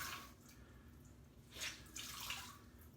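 Water drips and splashes softly as a hot towel is dipped and lifted from a basin of hot water, a few faint trickles and a brief bright splash, close and quiet with no talk.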